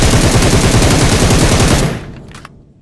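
Loud rapid automatic gunfire from the PUBG Mobile game rattles continuously at close range, then cuts off and trails into a few faint clicks and quieter shots.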